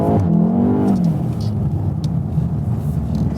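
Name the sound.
VW Golf 7 R engine revving while drifting on track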